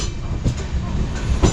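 The Jamnagar–Tirunelveli Express makes a stop at Chiplun on the Konkan line. A brief, close rolling rumble carries a couple of faint wheel clicks over the rails.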